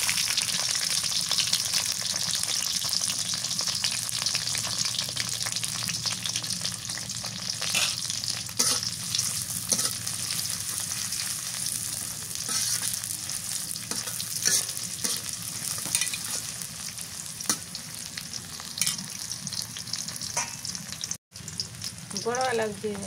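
Bay leaves and onions fry steadily in a pot for khichuri with beef, a continuous loud sizzle with occasional stirring scrapes and no talk.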